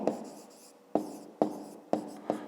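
A pen writes on paper during a fifth-grade maths lesson, four or five distinct scratchy strokes in quick, uneven succession, close and clear with quiet pauses between.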